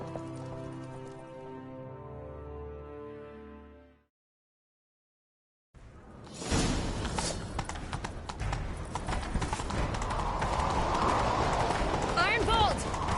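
Horse galloping in the video game Witcher 3, steady clip-clop hoofbeats running loud and continuous after a short silence, with game music beforehand and voices talking over it.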